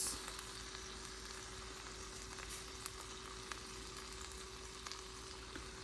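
Cashews frying in a pan with lime juice for sweet and spicy pork tacos, a steady close sizzle with scattered small pops and crackles throughout, no talking.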